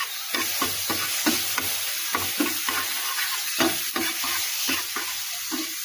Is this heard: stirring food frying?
yes